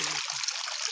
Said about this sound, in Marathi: पाण्यात हात घातले